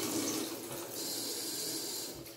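Gappo bathroom mixer faucet running water, a steady, close hissing stream that continues without pause.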